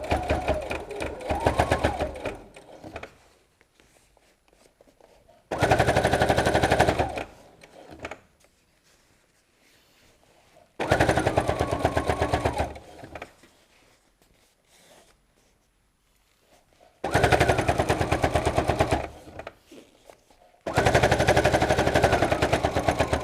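Sewing machine top stitching a BBQ utensil roll, running in four long rapid bursts separated by quiet pauses, close and loud, with a voice heard faintly between bursts.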